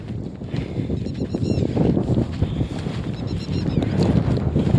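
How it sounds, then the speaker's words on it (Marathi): Gusty outdoor wind buffets the microphone with a constant low rumble, rising and falling slightly throughout. "मस्त वारा सुटत आहे"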